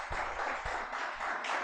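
A church congregation claps in a dense, steady wash of applause, moderately distant and sustained, with no talking heard.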